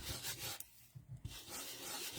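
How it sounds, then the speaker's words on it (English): An old sanding block rubs lightly over an unstamped photopolymer stamp, producing a quiet, raspy scrubbing with a short pause midway before the strokes resume. "I'm going to take my old sanding block"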